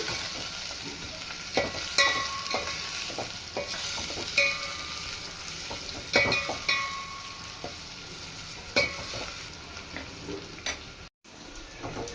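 Oil sizzles steadily in a frying pan as a tempering of moong dal fries while a spoon stirs, with scattered metallic scrapes and clicks against the pan.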